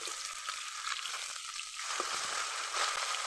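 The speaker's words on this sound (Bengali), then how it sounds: "উল্টাইয়ে পাল্টাইয়ে আসুন মাছটারে ভেজে নেই" Phasha fish frying in a pan, a continuous soft sizzle and crackle of hot oil with faint turning and stirring noises, steady and close.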